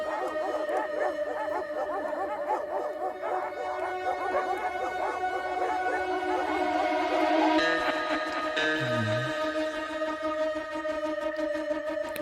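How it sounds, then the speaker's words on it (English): Several dogs bark and yip repeatedly over a steady musical backdrop, with a lower whining howl near the end. "Those dogs barking again."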